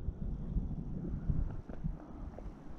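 Wind rumbles steadily against the microphone on a sunny, chilly day, a low continuous buffeting with faint thumps and no talking.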